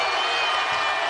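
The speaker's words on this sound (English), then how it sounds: "Crowd on its feet here at Target Center." A basketball arena crowd at Target Center rises and cheers during a close fourth-quarter college game against Maryland, a dense, steady roar that fills the whole brief moment without a break.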